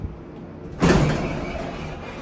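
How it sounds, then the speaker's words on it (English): An old relay-logic Dover traditional hydraulic elevator's door operator opens with a loud, rough mechanical rumble that starts abruptly and keeps grinding for over a second, heard close and alone. "That is a very loud and rough door operator."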